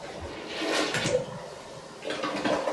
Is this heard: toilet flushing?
yes